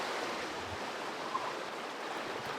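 Small creek water flowing in a steady soft rush, faint and continuous, with no voices.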